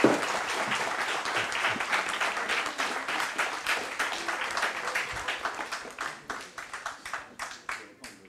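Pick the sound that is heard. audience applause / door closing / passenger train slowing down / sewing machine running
audience applause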